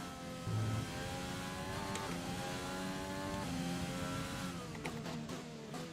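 An F1 2020 racing car engine in the video game revs continuously with a loud, whining tone whose pitch climbs and drops through several gear changes, steady and close throughout.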